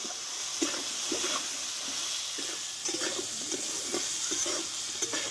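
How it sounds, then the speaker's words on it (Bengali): Jujube pickle gets stirred in a pan with salt and turmeric, making a run of soft scraping and clacking strokes over a low, steady hiss. "ভালোভাবে নাড়িয়ে নিয়েছি লবণ আর হলুদ দিয়ে"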